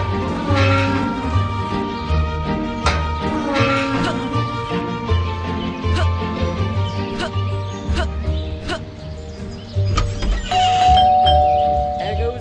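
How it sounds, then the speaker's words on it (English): Doorbell chimes ring repeatedly in the video game Scary Teacher 3D, sounding over game music and character talk in a busy, continuous mix. "There goes that stupid bell again."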